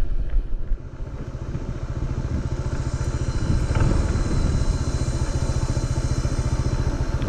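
A Honda ADV 160 scooter engine runs steadily on a steep barangay road in Maasin, Iloilo, a close, continuous mid-pitched hum with occasional clatter and thumps, no talking over it.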